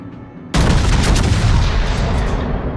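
Battleship gun salvo in the World of Warships naval game: after a quiet lead-in, a sudden loud blast erupts into a dense, rumbling roar of heavy cannon fire that holds and slowly fades, close and dominant with no talking.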